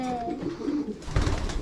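Racing pigeons coo in low, rolling murmurs close by at a breeder's loft, with a burst of fluttering or rustling toward the end.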